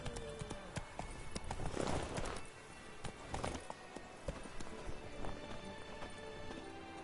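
Roach, Geralt's horse in the video game The Witcher 3, gallops with quick, rhythmic hoofbeats that swell to a loud burst, then settle into a lighter, steady clip-clop over a soft background.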